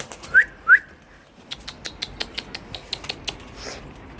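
Short whistles sound twice up close, then a quick run of light flutters and clicks follows, fitting pet birds being sent into flight.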